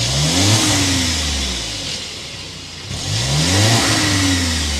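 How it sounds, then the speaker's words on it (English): A 2023 Volkswagen Tiguan SEL R-Line with a 2.0 liter turbocharged four-cylinder TSI engine revs twice through its exhaust, each rise and fall loud and close with a brief lull between. "start it up so you can hear that exhaust now."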